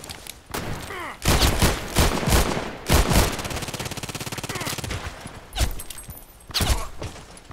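Gunfire in the online shooter Contract Wars, including Python revolver shots: loud, close bursts of rapid blasts from several weapons in clustered volleys with short pauses between them.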